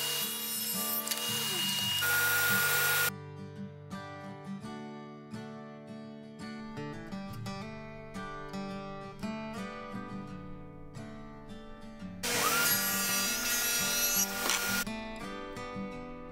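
A table saw cuts dados in the bottom board of a small plywood cabinet with sliding doors, two loud bursts of blade whine on the wood at the start and near the end, separated by a quieter spell of motor hum.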